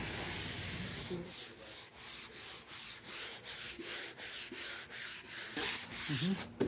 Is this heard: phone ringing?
no